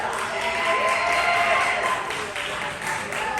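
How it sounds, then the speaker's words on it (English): Comedy show crowd applauds to vote for a performer, a steady wash of clapping with some cheering that swells and eases, with a voice heard over it. "those of you out here in the audience who think Tom Perkins won that battle, round of applause right now"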